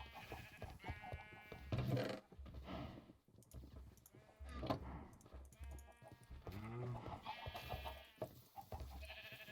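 Several Minecraft sheep bleating on an island homestead, wavering calls repeating every couple of seconds, fairly close and clear, with faint clicking in between.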